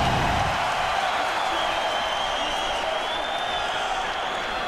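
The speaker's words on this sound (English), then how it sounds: "Listen to the crowd here at the Bell Center." Crowd roaring and cheering at the Bell Centre during a UFC fight, a dense sustained wash of arena noise at steady loudness, with a commentator's voice faintly mixed in.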